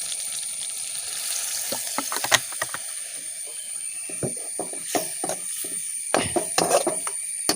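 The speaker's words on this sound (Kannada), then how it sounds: "ಇವಾಗ ಇದನ್ನು ಸ್ವಲ್ಪ ಎಣ್ಣೆಯಲ್ಲಿ ಚೆನ್ನಾಗಿ ಬಾಡಿಸಿದಲ್ವ. ನೋಡಿ, ಇನ್ನು ಇದಕ್ಕೆ ಸ್ವಲ್ಪ ನೀರನ್ನು ಆ್ಯಡ್ ಮಾಡಿಕೊಳ್ಳುವ" Water hits tomato and pepper frying in hot oil in a pan, bringing up a steady close sizzle with scattered clacks and scrapes from stirring.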